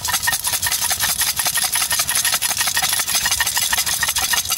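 Salted popcorn shaken in a pot on an outdoor hobo stove, a close, rapid rustling and rasping of kernels sliding against metal in continuous bursts for several seconds, with no talk.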